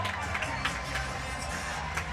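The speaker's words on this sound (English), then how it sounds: "And listen to how loud this crowd is." A loud crowd at an arena football game between the Jacksonville Sharks and Quad City Steamwheelers, with a continuous roar of cheering and scattered claps and whoops running through, heard from within the stands.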